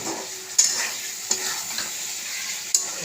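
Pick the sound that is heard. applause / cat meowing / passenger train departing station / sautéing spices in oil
sautéing spices in oil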